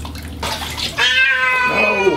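A cat being bathed lets out a long, drawn-out, unhappy meow, loud and close, with a quieter mewing sound just before it.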